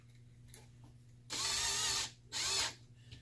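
A Dremel rotary tool fitted with a small plastic brush whirs in two short bursts, cleaning primer pockets on cartridge brass for reloading, the first spin longer, the second brief, in a quiet room.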